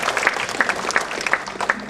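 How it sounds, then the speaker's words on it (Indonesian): A brief round of applause from an audience at a Buddhist year-end reflection talk: a dense, close wash of many hands clapping at once, with no speech over it. "Baik, tepuk tangan untuk jawaban saya."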